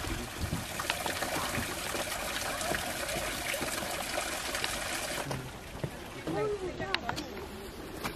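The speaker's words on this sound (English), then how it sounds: "Yung tunog ng water, ng wind." A small waterfall at Wakehurst trickles and splashes in a steady, close wash of water noise, with wind mixed in and a faint voice emerging near the end.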